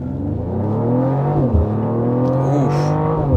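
A 2024 Mercedes GLE 53 AMG Coupe engine pulls hard under acceleration, heard from inside the cabin as a loud, steady rising growl with a brief dip as the revs shift partway through.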